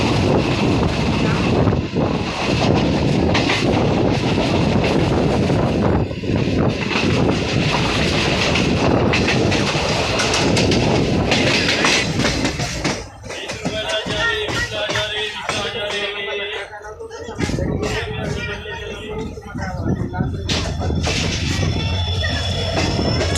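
A train running through a railway station on the Parbhani–Jalna line without stopping, with loud continuous rumble and clattering wheels over the track, rattling carriages and a sharp change in tone partway through as it passes the platform.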